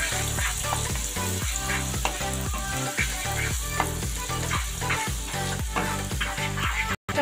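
Chopped onions sizzle and crackle steadily in hot oil in a pan, with a regular scrape-and-clack rhythm of stirring throughout, close and continuous, with no voices.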